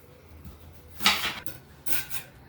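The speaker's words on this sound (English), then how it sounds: "Got the onion cut." Knife cuts through a big yellow onion on a cutting board, giving two crisp chopping strikes about a second apart over a quiet kitchen background.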